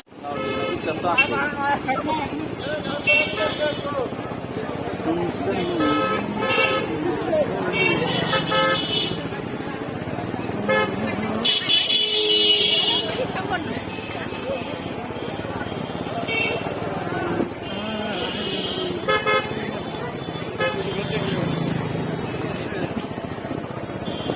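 Busy road traffic in a jam at night, with engines rumbling and several car horns tooting on and off, mixed with people talking nearby.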